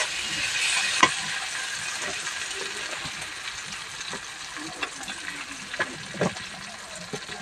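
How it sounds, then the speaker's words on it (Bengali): Food frying on a home cooking stove gives a continuous, close hiss and sizzle, with scattered small clicks and pops of stirring throughout. "হ্যাঁ, আমার ভাজা প্রায় শেষ প্রান্ত।"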